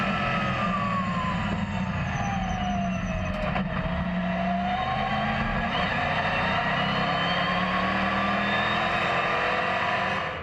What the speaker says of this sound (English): Villarino is faster and takes third place from Gabillon.